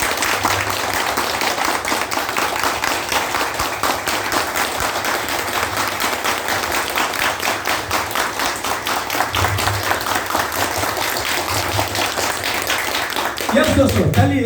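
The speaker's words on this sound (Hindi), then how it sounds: "एक बार जोरदार ताली से हम सब अभिवादन करें" Loud applause from a training session audience, many people clapping steadily for about fourteen seconds with a few voices mixed in, rising a little at the very end.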